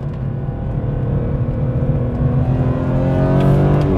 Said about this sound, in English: Listen how smooth this engine runs.